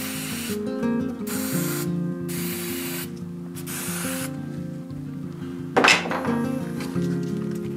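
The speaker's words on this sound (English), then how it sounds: "Then get some cheapo hairspray." Cheap aerosol hairspray sprayed onto bike handlebars to help slide on new ergonomic grips on a Mongoose commuter bike, heard as several loud hissing bursts of about a second each, with a sharp clink near the end.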